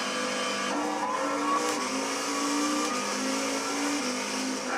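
A Pontiac GTO 5.7 Coupe launching in Gran Turismo 6, its engine droning loud and continuous with the pitch climbing and dipping through a quick gear shift, no talking.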